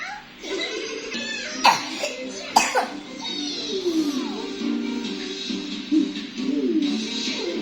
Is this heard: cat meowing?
no